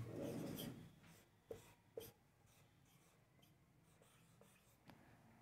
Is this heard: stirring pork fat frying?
no